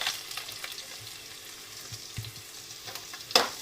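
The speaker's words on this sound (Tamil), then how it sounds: "நான் இப்போ பீன்ஸு கேரட் ஆட் பண்ணியிருக்கேன்." Chopped beans and carrots stir-fry in a pan for noodles, giving a close sizzling hiss broken by scraping stir strokes and a sharp clack near the end.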